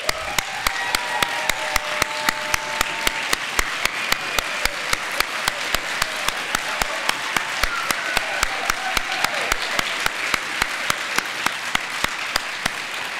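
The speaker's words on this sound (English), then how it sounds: "stand up and let everyone give you a round of applause" Steady audience applause for the conference team at the HR17 event, a dense, sustained wash of clapping from a large room with a few crisp nearby claps standing out, continuing evenly without talk.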